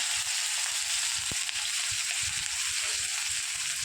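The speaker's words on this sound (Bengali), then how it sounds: "রেখে এবারে কড়াইয়ের মধ্যে আর বাকি যে পেঁয়াজটা কেটে রেখেছি সেই পেঁয়াজগুলোকে আমি দিয়ে দিচ্ছি।" Chopped onions hiss and crackle in hot oil in a kadai, a steady close sizzle running the whole time with a few soft clinks and stirring scrapes.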